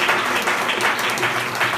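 A church congregation at a pastor's service claps together, a dense, loud burst of applause with no voices over it.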